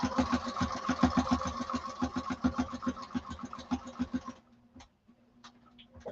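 A sewing machine set to stitch length 3 runs fast around the outside box of a duffle bag lining, rapid even needle clatter for about four seconds before stopping, followed by a few faint clicks and handling noises.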